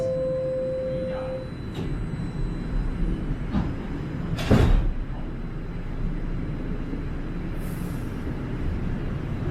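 Toronto subway car doors sliding shut at a station, a chime tone followed by a sharp whoosh and thud of the closing doors amid steady train hum.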